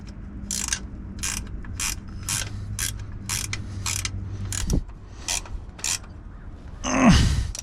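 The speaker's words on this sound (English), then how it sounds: "I'll tighten them down nice and snug" A ratchet tightens bolts on the encoder motor of a 2004 Chevy Astro AWD, with a run of about a dozen crisp, evenly spaced clicks up close, followed by a short scraping rattle at the end.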